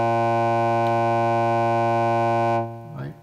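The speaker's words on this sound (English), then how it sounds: "sound from the DPO or the oscillator." Basic steady oscillator tone from a Make Noise DPO modular synthesizer, a loud sustained harmonic-rich drone that cuts off abruptly near the end as a voice begins.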